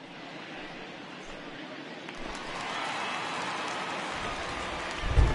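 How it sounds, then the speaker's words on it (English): Rain falling in MLB The Show 20, a baseball video game, as an even hiss that slowly swells louder over several seconds, ending with a brief thump. "The rain is following."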